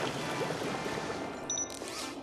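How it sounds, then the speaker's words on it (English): A spray robot in the video game Beyond a Steel Sky releases a steady hissing rush of water, a continuous moderately loud spray with a faint electronic tone near the end. "Commencing spray, please stand back."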